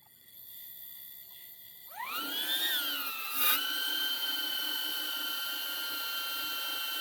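A low background hum gives way to a high-pitched drone motor whine that climbs sharply in pitch as it spins up for takeoff, then holds steady and loud for several seconds, something sounding off.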